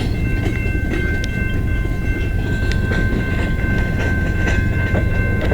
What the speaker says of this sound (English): we got a train that is backing in